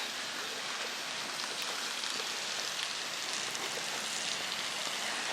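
Rain falls steadily at Magic Kingdom in Walt Disney World, Florida, a dense even hiss of drops on surfaces with no talk over it.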